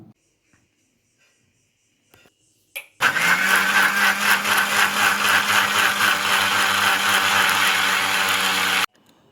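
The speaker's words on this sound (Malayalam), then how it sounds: "ഇനി ഇതൊക്കെ കൂടി മിക്സിയിൽ നടിച്ചെടുക്കുക" After a few faint clicks, a blender starts abruptly and whirs loudly and steadily for about six seconds blending a mango milkshake, then cuts off.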